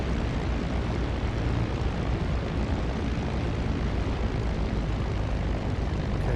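A Spitfire IX propeller engine roars steadily and loudly on the takeoff run in DCS World, a dense, unbroken drone with no pauses and no voices.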